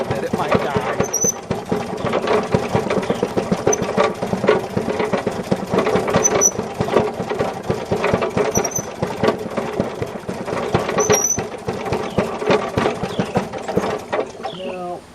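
Maytag Model 92 engine-powered washing machine running with its small gasoline engine: a steady, rapid mechanical chugging and rattling of gears and pawls, close and loud, continuing throughout with faint higher clinks.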